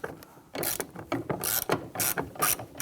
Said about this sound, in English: Using a T30 Torx bit and our extension, we're going to go ahead and remove the bolt holding the handle in place here